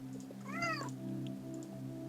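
A pet cat lets out a single short, rising-and-falling meow, fairly quiet and close, over a steady low electronic hum from the room.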